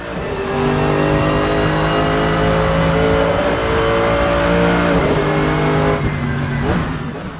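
A car engine revs loudly and continuously, pitch climbing through the gears with brief drops at each shift, racing-game style.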